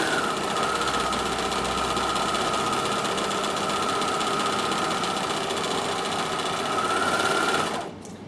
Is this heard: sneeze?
no